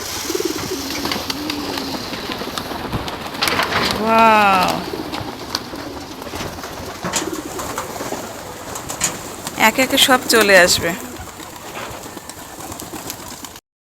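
Pigeons arriving for their morning feed coo in soft rolling calls, growing busier toward the end, with a voice speaking in between.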